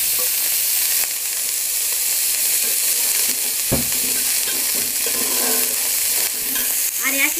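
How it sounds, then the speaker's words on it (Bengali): Milk being poured into hot water in a cooking pot and stirred, giving a steady hissing simmer with light scraping and stirring strokes and a sharp clink partway through. "গরম জলে দুধটা দিয়ে দেবো।"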